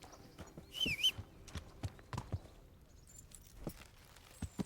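A horse walks in the medieval game Kingdom Come: Deliverance, irregular close hoof clops on the ground with a brief whinny-like squeal early on, fairly quiet.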